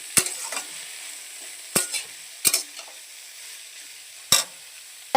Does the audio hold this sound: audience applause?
no